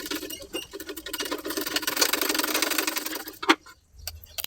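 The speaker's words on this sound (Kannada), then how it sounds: "ಇದೇ ರೀತಿ ಈ ಸೈಡ್ಗೂ ಕೂಡ ಹಚ್ಚಿ ಸ್ಟಿಚ್ ಮಾಡ್ಕೊಳ್ಳೋಣ ಪ್ಲೇಟ್ಸ್ ಪಾರ್ಟ್ನ" A sewing machine runs steadily for about three seconds, stitching pleats onto blouse sleeves, with a rapid even clatter. It stops briefly, a short knock follows, then it restarts. No voice is heard.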